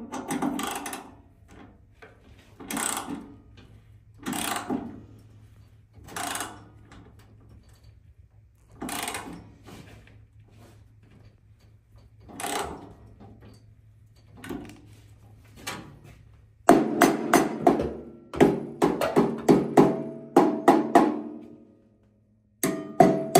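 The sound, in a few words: tapping a clamp on a Freightliner DPF filter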